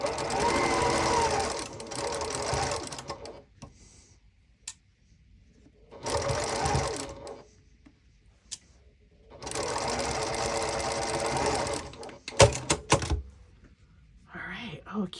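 Sewing machine stitching a pinned seam in fabric, three long runs of steady whirring separated by pauses, with small handling clunks between bursts.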